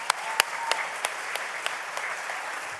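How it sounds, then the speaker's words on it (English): An audience at a community awards ceremony claps steadily, a dense patter of many hands with a few sharper close claps standing out, loud and continuous without speech. "please join me in applauding her efforts for today's event"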